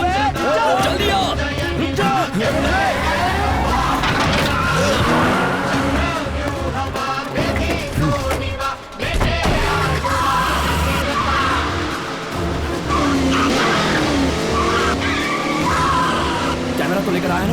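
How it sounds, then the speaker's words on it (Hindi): Tires squeal and skid as a car revs and tears away in an action scene from a dubbed South Indian film, the screeching engine noise running throughout under excited shouting voices. "गाड़ी स्टार्ट कर।"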